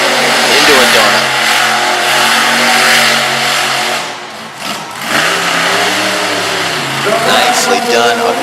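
A monster truck engine at a Harrington, Delaware show roars and revs loudly and close, the heavy rumble dipping briefly midway before surging again, with an announcer talking over it.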